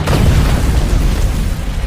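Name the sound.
landmine explosion disabling a patrol vehicle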